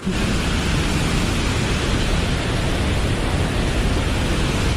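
Steady, heavy rain falls during a journey, a dense unbroken hiss that stays loud and even throughout with no voices.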